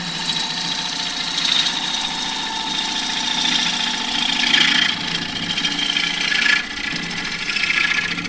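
Wood lathe turning a wide-rim box-elder bowl while a 3/8 deep fluted bowl gouge cuts, making a steady, loud, rough hiss over a constant motor hum, with slight swells as the cut changes.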